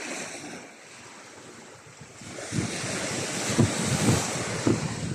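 Ocean waves splash against rocks along a shore, a steady wash of surf with wind noise on the microphone, swelling louder partway through and breaking in a few heavier splashes near the end.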